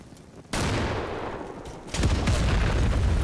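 A frag grenade blast followed by gunfire in the video game Blue Dawn, set in a Donbass-crisis Ukrainian special-ops sabotage mission: a loud sudden boom, a sustained rumbling roar, then a second heavy burst of firing and explosions.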